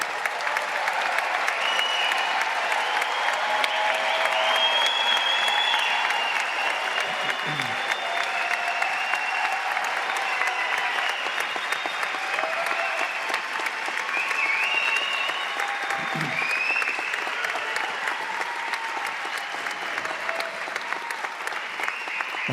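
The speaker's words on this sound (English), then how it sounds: "Please stand, and let's give them a rousing round of applause." A commencement audience at SUNY Upstate Medical University gives the graduating class a long, sustained round of applause, dense steady clapping from a large crowd with faint voices mixed in.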